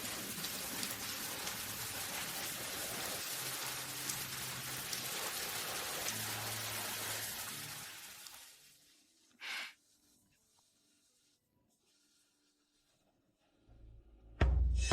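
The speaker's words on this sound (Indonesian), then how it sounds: "hujan sudah mulai turun" Steady heavy rain falls as a dense hiss for about eight seconds, then cuts out to near silence with a brief splash and a loud low thump at the end.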